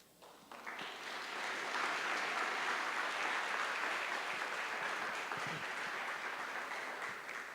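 A school district prize event audience bursts into sustained applause, dense and even clapping that swells in the first second and holds steady from a roomful of people, without any voices.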